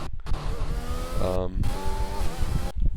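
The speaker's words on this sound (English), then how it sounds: "the Mercedes in low revs sounds amazing, and then the Ferrari in high revs sounds amazing" A Formula 1 car engine revs loudly with rising and falling pitch, a sharp high-rev whine passing by close, at the 2021 British Grand Prix.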